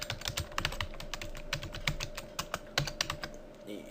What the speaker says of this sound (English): we can simply type competitor